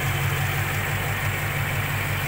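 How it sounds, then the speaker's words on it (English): A Rover P6B 3500S V8 with a custom ceramic coated exhaust idles steadily nearby. The low, even rumble holds constant throughout with no revving and no voices. "my custom ceramic coated exhaust, lovely note out of those"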